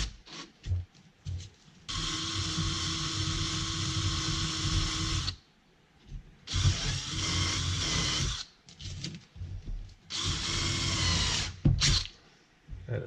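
A power drill bores out a countersink hole inside an Airstream trailer in three bursts of steady whirring, each a few seconds long, separated by short pauses, close and moderately loud.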